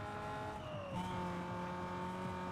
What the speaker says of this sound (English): Hop in the car, Shaq.